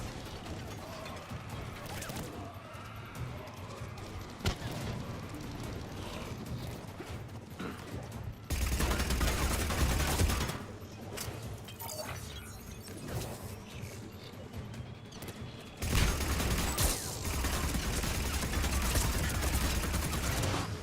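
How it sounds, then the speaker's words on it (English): Submachine-gun fire in the shooter Mass Effect, dense bursts of rapid shots repeating through a busy battle mix, loud and close, with abrupt jumps in intensity. "best SMG in the fucking game"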